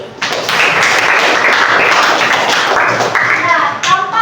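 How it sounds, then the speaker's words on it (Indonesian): A classroom applauding a student named Mercy, a dense steady patter of many hands clapping together for about four seconds, close and fairly loud. "Kita berikan aplaus untuk Mercy."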